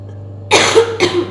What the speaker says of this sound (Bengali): সরি সেই কাশিটা কতদিন থেকেই মানে লেগেই রয়েছে